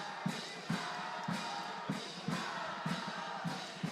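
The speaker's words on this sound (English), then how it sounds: "Good crowd tonight and a lively crowd tonight." Lively crowd noise at a high school boys varsity football game, a steady roar of many voices with repeated sharp bursts of shouts and claps rising over it.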